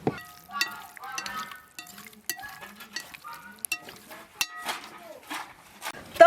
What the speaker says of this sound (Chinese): 倒到锅里，把五花肉上的油往出煸一下